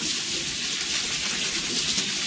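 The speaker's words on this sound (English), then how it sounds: "I've got my colander all ready to go, and I'm just giving them a rinse." Running water pours steadily over lentils in a colander, a dense, even rush of splashing close by with no pauses or talking.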